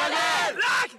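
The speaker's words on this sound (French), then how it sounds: "Ajoutez à cela qu'ils ont des cris de guerre un peu étranges." Quidditch team shouting a strange battle cry together at a match, a loud burst of massed yelling voices in two quick surges lasting about a second.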